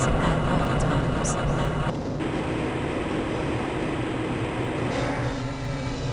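A tram rolling through the Black Mesa transit system in Half-Life: Blue Shift, a steady continuous rumble with mechanical hiss throughout, under an announcer's voice over the PA.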